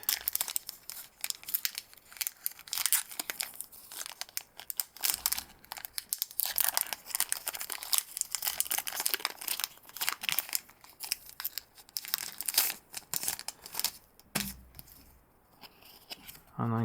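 A Pokemon Breakthrough card pack torn open at close range, with sustained crinkly foil crumpling and ripping over many seconds, loud and dense with irregular bursts and no talking.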